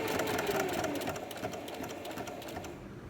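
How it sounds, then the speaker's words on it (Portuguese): A sewing machine stitches a seam while making a souplast, running as a steady close rapid mechanical whir with fast needle clatter for about three seconds, with no talking. "continua a passar a costura."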